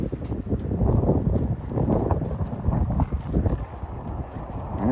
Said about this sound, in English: It's a rainy, windy, cold day here.